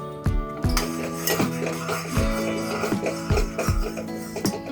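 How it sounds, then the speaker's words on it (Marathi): Mango pulp and water with salt being stirred in a pot over a low gas flame: a spoon knocks and clinks against the metal rim in a repeated rhythm of about six strikes, with ringing tones, close and clear. "आणि परत ढवळून घेऊया"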